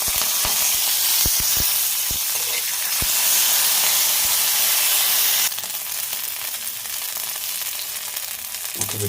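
Cumin and mustard seeds fry in hot oil for jowar rava kichidi, a steady close sizzle and crackle with scattered pops, the hiss settling slightly quieter partway through.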